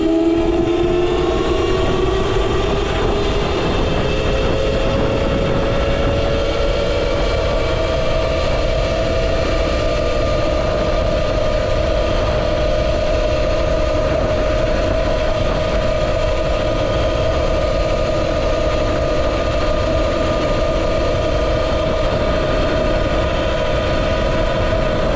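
A Qronge X1 Spark motorcycle runs steadily downhill on a highway, its engine whine climbing in pitch then holding a constant drone, loud and close under heavy wind rush.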